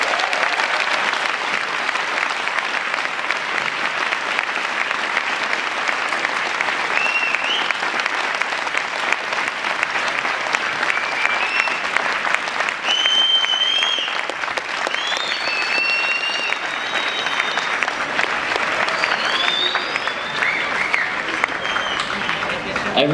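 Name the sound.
audience round of applause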